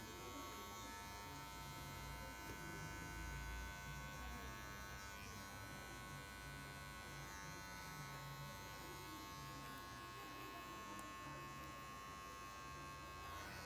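Electric hair clippers with a zero guard clean up the base of a fade, giving a continuous, faint, steady buzz throughout with no voices.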